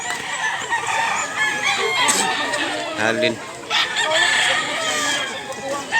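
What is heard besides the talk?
White Kelso rooster crowing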